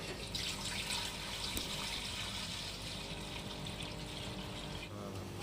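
Water runs steadily into a pot set on a gas stove for heating while dum aloo is being made, giving a soft continuous pouring and splashing.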